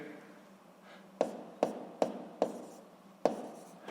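Writing force labels on a physics diagram, heard as a short series of about five sharp, close taps and strokes of a pen on paper in an otherwise quiet room.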